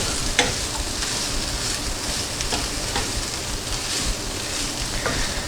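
Kale wilts and cooks down in a soup pot of pasta and beans, giving a steady close sizzle and bubbling with a few light stirring clinks.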